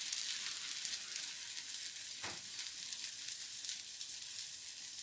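A Spanish potato and cheese omelette fries in a pan with a steady, even sizzling hiss throughout and one brief sharper crackle midway, no talking.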